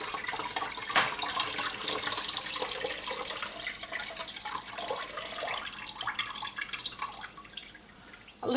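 Water trickles and drips from freshly cut cabbage for homemade sauerkraut, a steady, soft splashing in a kitchen with no talking.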